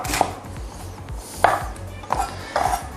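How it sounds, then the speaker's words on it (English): A knife slices red onion thinly on a board, with four or five distinct close chopping knocks spaced irregularly over a faint background hum. "the next thing is some red onion and just slice thinly"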